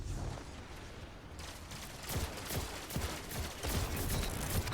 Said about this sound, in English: I'll just stand my ground and fire into them